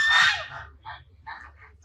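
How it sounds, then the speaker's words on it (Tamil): Domestic ducks at a large old family house give a loud burst of honking quacks, then several shorter quacks in quick succession over a low steady background hum. "வளப்பு வாத்து"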